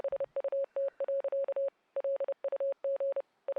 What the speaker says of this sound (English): And this Morse code is going too fast for me to be able to even try to write it down.